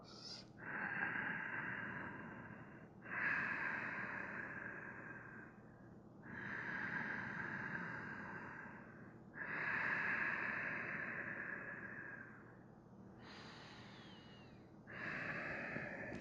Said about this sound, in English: Slow, steady inhales and exhales.